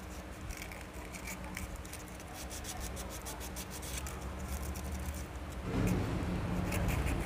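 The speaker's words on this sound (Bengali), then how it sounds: "এইভাবে সিরিজ পেপার দিয়ে সুন্দরভাবে 220-320 পেপার দিয়ে শুধু জাস্ট স্পটটা তুলে দিয়ে" Steady rubbing and scraping as 220 to 320 grit sandpaper is worked over a Pulsar motorcycle engine part, close and continuous, growing slightly louder and rougher near the end.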